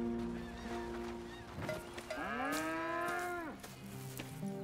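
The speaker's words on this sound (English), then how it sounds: "Here's the cows." Cattle mooing on a farm in Red Dead Redemption 2, with one long, loud, drawn-out moo in the middle over steady ambient farm noise and a few fainter lowing calls around it.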